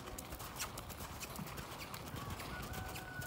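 A horse canters in a riding arena, its hoofbeats thudding in a steady, rapid rhythm at moderate distance against a soft background hum.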